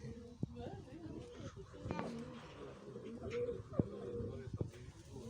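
Low, soft cooing of pigeons in an aviary at Halych National Nature Park repeats against a background of people talking and bird chatter nearby.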